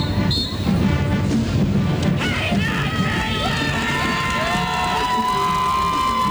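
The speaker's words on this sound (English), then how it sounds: "Crowd appreciating that, giving them a nice hand." Parade crowd applauding and cheering for the Zeeland High Marching Band at the Tulip Time Volksparade in Holland, Michigan: loud, close, steady clapping and shouts, with whistles and brass tones rising near the end.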